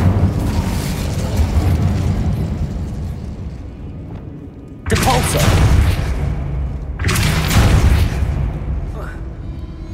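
An Incendio fire spell in Hogwarts Legacy bursts in two loud whooshing blasts a couple of seconds apart, each a sudden roaring flare that fades, over a rumbling game background with a voice speaking.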